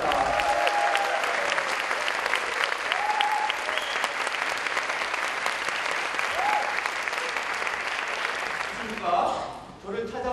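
An audience applauds and cheers at a live stage event, dense sustained clapping with scattered shouts filling nearly the whole stretch before fading near the end.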